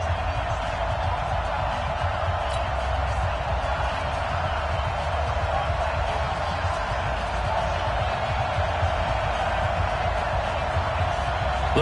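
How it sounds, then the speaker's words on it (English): Steady stadium crowd roar from an NFL game between the Miami Dolphins and Baltimore Ravens in the Madden video game, a continuous dense wash of cheering that holds level throughout with no clear peaks. "This crowd is ready as their guys get set to match up between the Miami Dolphins and the Baltimore Ravens"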